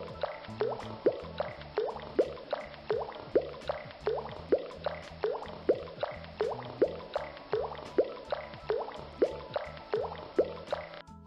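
Wastewater dripping and splashing through filter media in a trickling filter demonstration, a steady rhythmic series of wet drips and squishy plops repeating about twice a second, close and moderately quiet.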